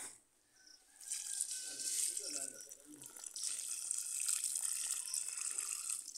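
Water poured from a hose or vessel onto a newly planted jasmine in a garden bed, a steady close splashing and trickling that runs through the clip, with voices talking faintly beneath it.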